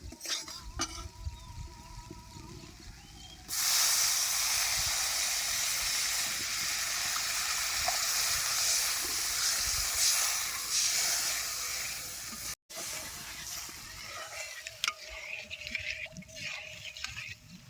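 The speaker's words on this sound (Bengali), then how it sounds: "এবার পরিমাণ মতো জল দিয়ে দেবো" Water poured into a hot pan of sizzling gram flour and spice paste for a vegetarian pumpkin flower dish, a sudden loud burst of hissing steam and frying that stays strong for several seconds, then eases into quieter bubbling with stirring clinks.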